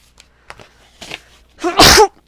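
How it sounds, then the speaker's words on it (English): A few soft, breathy sniffs building to one loud, explosive sneeze near the end, close up, with quiet between. "Sorry about the sneezing."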